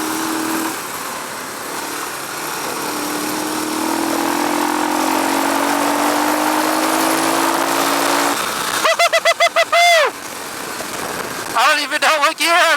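Suzuki DR dirt bike engine heard while riding, a continuous loud rumble with strong wind noise, then sharp rising and falling revs near the end as the throttle is worked.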